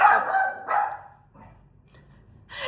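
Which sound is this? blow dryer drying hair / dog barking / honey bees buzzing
dog barking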